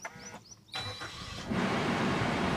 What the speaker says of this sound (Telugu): ఇప్పుడు మనము ఇంజన్ ఒకసారి ఆన్ చేద్దామండి